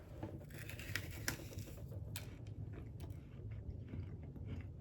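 Crunching of a coconut snack from France as it is bitten and chewed, a few quiet, crisp cracks scattered over a soft, steady low background, close but faint, with no voices.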